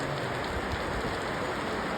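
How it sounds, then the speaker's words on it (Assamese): Heavy rain falls steadily in Longding, Arunachal Pradesh, a dense, even, close hiss of drops on surfaces with no voices. "পূৰা বৰষুণ দিছে"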